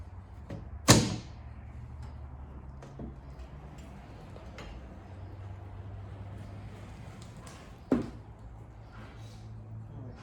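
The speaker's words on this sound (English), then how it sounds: "Suicide door." Two heavy thunks of rear-hinged car suicide doors, one near the start and one near the end, over a low steady rumble.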